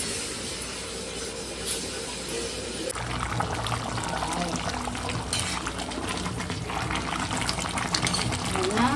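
A pot of food on a home stove bubbles at a steady simmer over a low flame, a dense continuous boiling hiss that stays near and fairly loud throughout.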